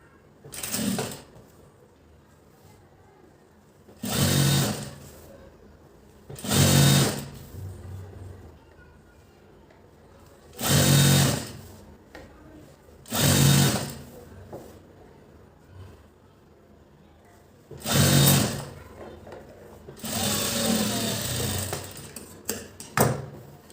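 Sewing machine stitching fabric in about seven short rapid bursts, close and loud, separated by quiet pauses.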